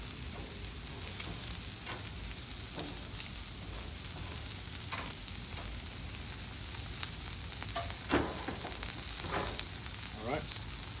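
Sweet potatoes and potatoes sizzle on a griddle while being flipped, a steady frying hiss broken by scattered scrapes and light clinks of a spatula, no speech.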